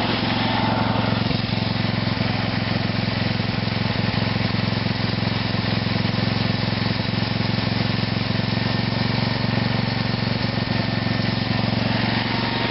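A small model engine fitted with an OFNA carburetor runs continuously with its idle turned up, a steady buzzing drone with a constant low hum that holds even throughout, close and loud.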